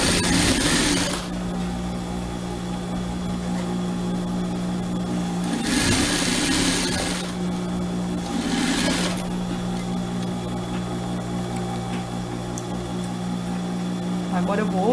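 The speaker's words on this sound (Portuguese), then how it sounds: "E assim eu costuro até embaixo." A sewing machine stitches Oxford fabric for a simple backpack with a continuous, close mechanical whir, interrupted by brief louder surges and pauses as the seam is run down the fabric.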